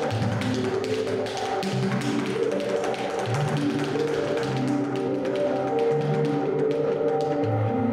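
Rapid tap dancing on a wooden floor, a dense stream of sharp, close heel and toe taps played with musical intent over tonal background music, steady and loud throughout.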